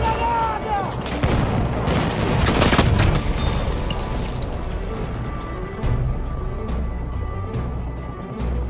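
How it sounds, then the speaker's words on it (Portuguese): Battlefield 1 combat in the Argonne Forest with a grenade blast and dense gunfire, a loud burst building around the third second amid continuous rattling shots and battle noise. "Lançando granada!"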